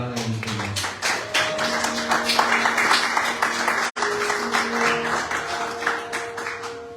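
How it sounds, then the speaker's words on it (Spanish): A church congregation applauding, brisk overlapping claps with voices mixed in, steady for several seconds with a brief break midway. "Vamos a darle un aplauso a la palabra del Señor."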